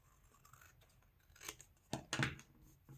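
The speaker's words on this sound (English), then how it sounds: "I'm going to trim this right off with this." Scissors trim cardstock for a slimline card, a few quiet, crisp snips close up in the final seconds after near silence, with no talking.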